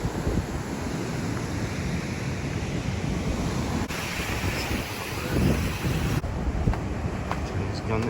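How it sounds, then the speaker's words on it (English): Ocean waves wash onto a beach in Crete, a steady rushing surf mixed with gusty wind buffeting the microphone, while people talk nearby. "And there is the ocean."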